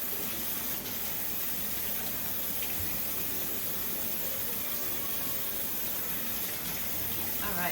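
Cool tap water running while a wig is rinsed at a sink: a steady, close rushing gush of water with splashy variation as the hair is moved under the stream, continuous throughout.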